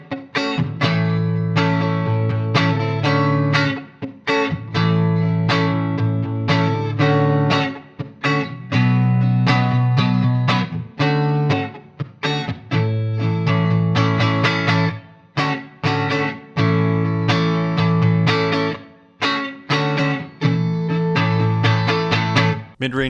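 An electric guitar played through the Fine Classics Vintage Vibe amp simulator on a clean indie preset rings out in strummed chords and picked phrases, bright and continuous with brief gaps, heard alone.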